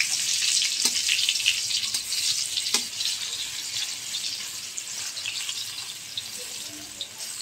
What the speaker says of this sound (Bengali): দেখো তেলের মধ্যে সবজি দিয়ে দিয়েছি